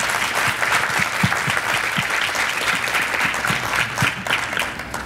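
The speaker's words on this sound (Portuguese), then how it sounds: "Eu gostaria de dar um aplauso para elas." Applause from a conference audience at a panel session, a dense, steady wash of many hands clapping throughout with no talk over it.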